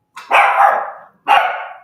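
A dog barks twice in quick succession, each bark loud and close with a drawn-out, rough tail, a short pause separating them.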